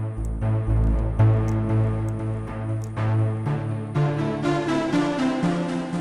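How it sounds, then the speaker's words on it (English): A harsh, buzzing synth tone plays a sequence of sustained notes, gritty and distorted, with a bright crackling edge that thickens toward the end. "Then you can go over here to distortions and add distortion."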